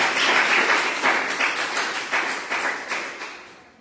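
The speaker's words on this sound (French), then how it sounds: "je pense qu'on peut t'applaudir vraiment bien fort" An audience at a student conference in Tel Aviv claps for a speaker, with rhythmic bursts of clapping that gradually thin out and fade toward the end.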